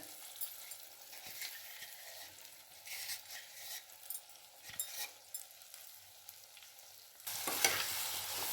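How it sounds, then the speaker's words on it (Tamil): A citron pickle mixture sautés in oil with spice powder, giving a soft, continuous sizzle broken by stirring scrapes, then a louder burst of frying near the end, with no talking. "இதை இந்த பொடியோடு சேர்ந்து நல்லா வதக்கணும்"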